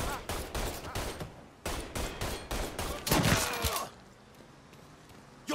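Sharp gunshots ring out in a fast series in Mafia III, loud separate cracks and short volleys spaced across the first few seconds, then a quieter lull before one final shot.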